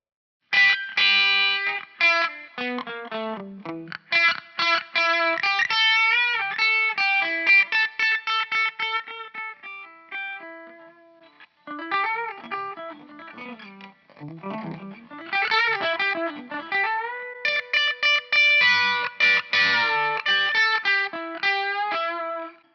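Epiphone Exclusive Run Flying V on its bridge pickup through a Syn1 Z-Wreck amp, a bright, crisp overdriven tone with fast picked riffs, choppy chords and bends, played loud and close with brief pauses between phrases.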